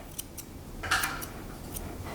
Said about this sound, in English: we are going to come straight up with our scissors to our stopper pad